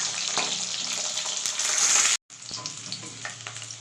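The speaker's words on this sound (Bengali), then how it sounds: "তো আলুগুলো ভাজা চলছে, হয়ে এসছে।" Potatoes fry in hot oil for a chicken dish, a loud continuous crackling sizzle with stirring scrapes, briefly cut off by a sharp gap before the quieter sizzling resumes; nobody speaks.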